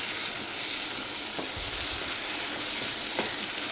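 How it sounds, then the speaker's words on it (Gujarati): Punjabi vegetable gravy sizzling steadily in a pan on full flame, a loud continuous fry with a couple of soft scraping stirs, no voices. "થોડી વાર આપણે હલાવશું."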